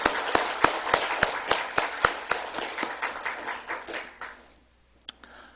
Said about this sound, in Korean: 우리 주님께 영광의 박수를 한번 올립시다.